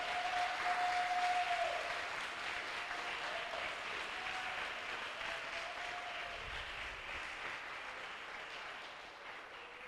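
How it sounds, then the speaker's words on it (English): Audience applause at a school essay, oratory and performing arts competition for the primary-level best essay winner, a dense, sustained burst of clapping that slowly fades over about ten seconds, with a faint voice at the start. "So I want you to give a round of applause for our overall best essay winner at the primary level, Miss Shadair Green."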